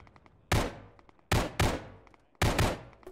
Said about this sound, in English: I hear gunfire close south downhill.